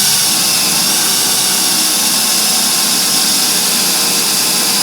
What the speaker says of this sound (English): and drill all the way through everything.